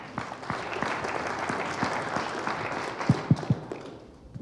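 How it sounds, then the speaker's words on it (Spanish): Moderate applause from a seminar audience welcoming Dr. Jordi Micheli, a steady patter of clapping with a few sharper, closer claps near the end before it thins out. "Démosle un fuerte aplauso al doctor Jordi Micheli."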